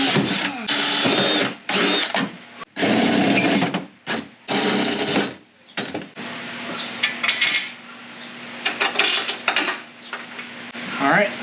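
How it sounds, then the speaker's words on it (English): Loud bursts of a power drill with a 3/8-inch bit boring into a Jeep TJ's metal during rust repair, starting and stopping in several short runs, followed by quieter mechanical rattling and scraping. "So I'm going to drill these out first with this bit"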